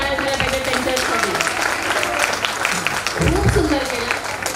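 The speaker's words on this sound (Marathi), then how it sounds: "एकदा जोरदार टाळ्या झाल्या पाहिजे त्यांच्यासाठी" Enthusiastic applause for dance performers at an Arya Vaishya cultural event in Pune, steady dense clapping throughout with crowd noise, swelling louder near the end.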